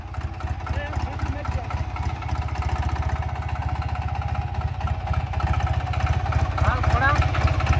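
A mini tractor engine chugs in a steady rapid pulse close by, running continuously while people talk over it.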